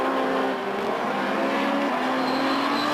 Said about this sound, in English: You can hear the car working.